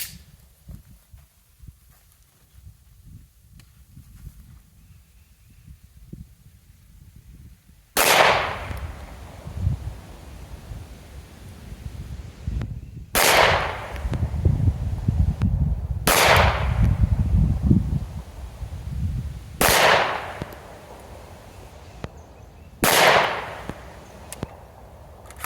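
Five loud, sharp gunshots from a Beretta APX A1 9mm pistol firing 115 grain full metal jacket ammunition, spaced a few seconds apart over low outdoor rumble, each a crisp crack with a brief decaying tail.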